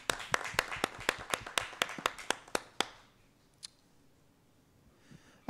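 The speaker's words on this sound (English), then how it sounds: "That is a wonderful achievement and worthy of applause." Brief applause at a school district governing board meeting, a dozen or so sharp, spaced claps from a small, fairly close group that stop after about three seconds, leaving a quiet room.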